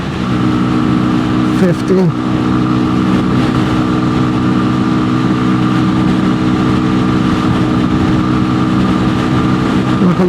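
A Keeway RKV125 motorcycle engine drones steadily and loudly while riding through the gears, with a brief dip in pitch early on as a gear changes, and a voice speaking briefly over the engine noise.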